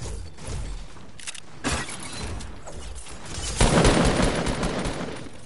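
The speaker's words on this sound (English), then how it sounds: "Bro, again with the bombs, bro." Bombs explode in a Fortnite match, a loud burst of crackling, shattering blasts that rumble on and off and swell again into a dense rolling clatter toward the end, with no talking.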